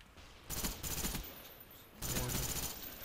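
FAMAS rifle bursts in Black Ops on the Berlin Wall map: two loud, close bursts of rapid fire about a second and a half apart, with no talking.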